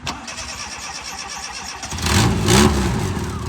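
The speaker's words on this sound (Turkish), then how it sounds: "Diyerekten marşa basıyoruz." A Tofaş Kartal SLX car engine cranks with a rhythmic starter whir, then catches and roars to life, settling into a loud, close idle.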